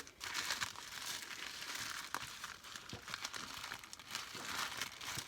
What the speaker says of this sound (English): Put the tissue paper up.